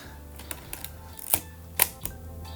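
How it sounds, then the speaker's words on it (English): A black-paint Nikon S3 rangefinder camera is wound with its top lever and fired. A run of small, crisp mechanical clicks ends in two sharper, louder snaps close together, all up close with no talking. "The camera has a very smooth winding lever on top, including the shutter speed dial up to 1/1000th of a second"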